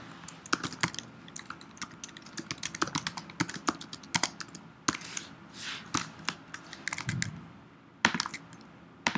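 Someone types an answer on a computer keyboard, a close run of crisp, irregular key clicks with short pauses between bursts and no talking.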